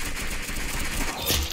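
Automatic gunfire from a weapon in the Roblox game Arsenal, a steady dense rattle of rapid shots at close range through the whole stretch, with a brief brighter burst near the end.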